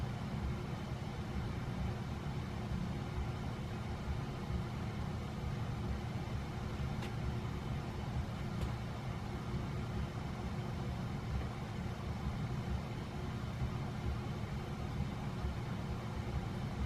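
A Nutone Verandah friction drive ceiling fan spinning down, a steady low whirring hum with faint broadband rush that holds evenly throughout, no voices.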